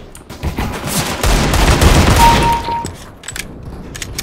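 Rapid bursts of gunfire from a Desert Eagle in a CS:GO deathmatch on Dust II, loud close shots running into a dense volley, then sparser shots as it tails off.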